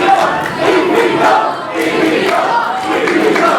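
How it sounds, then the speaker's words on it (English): Wrestling crowd at an EPW Going for Broke 2020 title-versus-career match chanting in steady rhythmic waves, loud and dense, filling the arena with no other sound on top. "The crowd may be chanting EPW, but you know that's a chant for David Storm"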